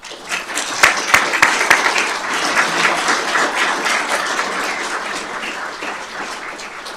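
A crowd at a fire and rescue services awards ceremony claps in a sustained round of applause, starting with a few sharp, close claps, swelling into dense clapping, then gradually thinning out.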